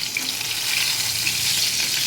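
Pointed gourd (potol) sizzles in hot oil in a pan, a steady, dense crackle and hiss with no talk over it.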